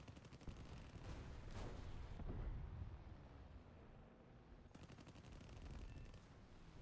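Automatic gunfire in a first-person shooter comes in two long rapid bursts with a short lull between them, loud and close, with no talking over it.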